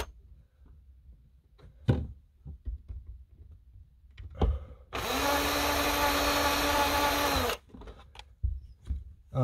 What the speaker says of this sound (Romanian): dau direct cu bormașina